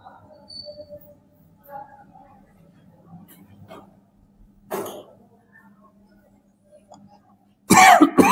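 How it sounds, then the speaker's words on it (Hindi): Several coughs and throat clearings break through quiet room tone, one sharp cough midway and a loud burst of coughing at the end. "अभी वीडियो के चक्कर में खांसी बंद नहीं हो रहा है।"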